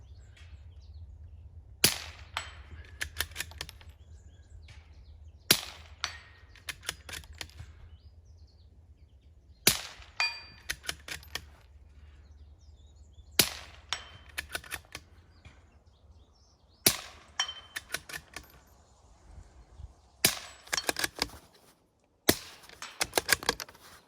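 A suppressed Ruger Precision Rimfire .22LR rifle fires a series of sharp, quiet cracks in small clusters with pauses between, each shot followed by faint clicks of the action and distant metallic target pings.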